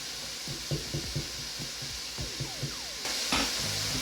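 Mushroom soup poured into a simmering pan of cooked-down chicken à la king and stirred, a steady sizzle under soft scraping and tapping stirs, then a louder pour and splash near the end.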